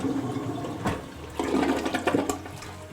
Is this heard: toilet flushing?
yes